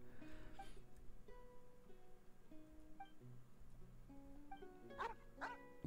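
A dog barks a few times amid gentle melodic background music in the video game Genshin Impact, with the clearest barks doubled near the end, quiet and soft overall; no speech.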